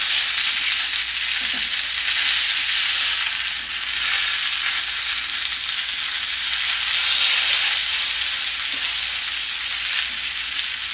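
Chicken pieces with skin searing in a hot pan, a steady, dense sizzle and crackle holding throughout at close range, with no talking.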